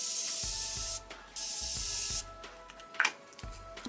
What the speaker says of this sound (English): set my face with the Morphe setting mist